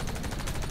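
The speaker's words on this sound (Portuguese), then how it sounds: "Eu acertei o tiro da bazuca lá que ele disparou." In the Warface video game, a bazooka fires with a loud, dense burst of explosive noise filling the short moment, up close and without talk.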